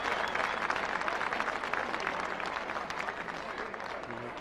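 Steady, sustained applause from a rugby league crowd at a Workington versus Whitehaven match, broad and continuous throughout, with the murmur of spectators beneath it.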